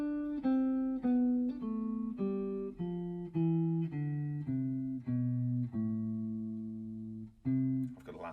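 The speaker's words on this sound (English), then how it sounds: "I'm now playing a full major scale. I'm starting on the C." A guitar plays a full major scale starting on C, about a dozen clean sustained single notes picked one after another at an even pace, ringing clearly with no talking.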